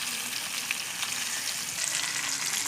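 River fish fries in a pan with a dense, continuous hiss of sizzling oil, steady and fairly loud throughout, with no voices.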